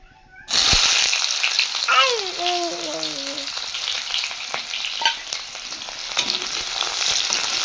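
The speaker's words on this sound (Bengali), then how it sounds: "পেঁয়াজটা চলে এবার তেলে আমি দিয়ে ভালোভাবে ভেজে নিই" Sliced onions hit hot oil for mutton biryani and set off a loud, steady sizzle that continues throughout, while a cat meows briefly nearby partway through.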